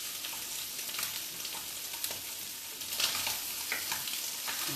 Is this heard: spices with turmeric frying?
yes